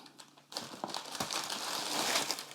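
Wrapping paper inside a Nike Air Max 1 shoe box crinkles and rustles close by, starting softly and then building into a steady, louder crackling flip of paper.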